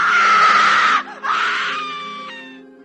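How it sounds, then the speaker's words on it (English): Heavy, sustained scream used as a horror-film sound effect, loud and shrill, breaking off briefly near the middle before resuming and slowly fading out at the end. "We included some heavy screaming to try and make the audience jump and feel rattled"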